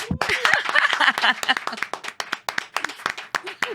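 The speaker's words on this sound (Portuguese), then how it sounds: "Uma salva de palmas." An audience applauding, a dense burst of many hands clapping that thins into scattered, uneven claps, heard close and fairly loud with some voices mixed in.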